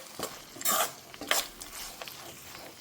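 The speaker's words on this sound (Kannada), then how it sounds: "ಮಾವಿನಕಾಯಿಯನ್ನು ಹಾಕ್ಕೊಂಡು ಇದನ್ನು ಸ್ವಲ್ಪ ಚೆನ್ನಾಗಿ ಫ್ರೈ ಮಾಡ್ಕೊಳ್ಬೇಕು." Grated raw mango fries dry, without water, in a pan for mango chitranna and is stirred. Quiet sizzling is broken by a few sharp scraping bursts of the spoon against the pan.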